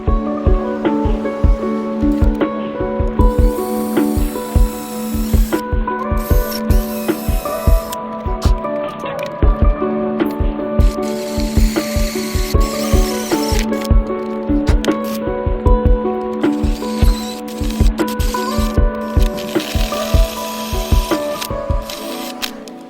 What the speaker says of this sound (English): Maybe use like a 1-inch hole saw bit and drill through that